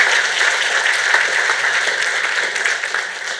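Applause from a fundraiser audience for donors, a steady moderately loud roomful of clapping that holds evenly and tapers slightly toward the end.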